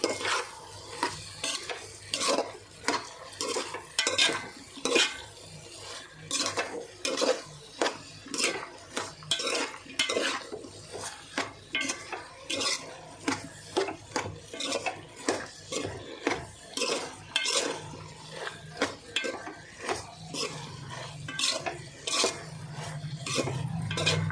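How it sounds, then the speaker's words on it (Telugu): A spoon stirring a brinjal, potato and chana dal curry in a metal pan, rhythmic scraping clanks repeating steadily for over twenty seconds over a soft sizzle, close by. "ఓకే తిప్పుకుందాం"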